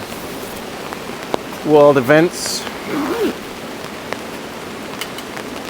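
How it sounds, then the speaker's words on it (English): Rain patters steadily on a tunnel tent, a constant close hiss of drops on fabric throughout, while someone speaks briefly over it. "Oh man, can you hear the rain?"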